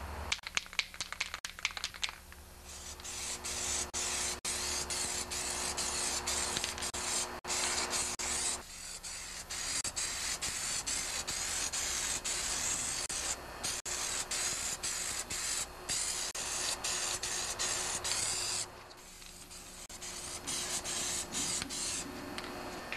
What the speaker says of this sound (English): what I'm using today is the original John Deere spray cans directly from the John Deere dealer